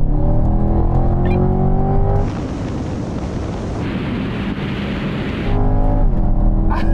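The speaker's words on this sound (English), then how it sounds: "now we're going for a rolling race from 50 miles an hour" Engines of a C8 Corvette and a Ferrari 458 Speciale roar hard during a rolling race from 50 mph, a loud sustained harmonic drone broken midway by a burst of rushing wind noise, then the engine tone returns.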